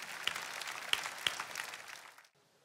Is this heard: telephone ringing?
no